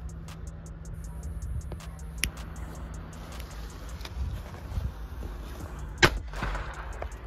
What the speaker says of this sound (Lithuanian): Pažiūrim, kaip Crash sprogsta.